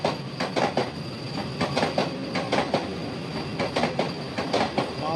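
Howrah–Puri Vande Bharat Express overtaking on the rails, its wheels throwing out a loud, steady, rhythmic clatter of repeated bursts with a high metallic ring above, and no voices.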